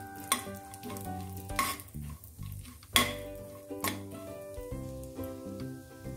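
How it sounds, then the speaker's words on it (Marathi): Sliced almonds and cashews roast in a pan as a spatula scrapes and stirs, with repeated metallic clinks and knocks against the pan over a soft sizzle. "इथं बदामाचे काप आणि हे काजूचे काप, हे आपल्याला थोडंसं 2 मिनटं भाजून घ्यायचं आहे"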